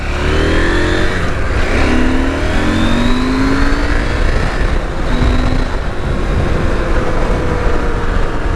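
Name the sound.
KTM 790/890 motorcycle accelerating away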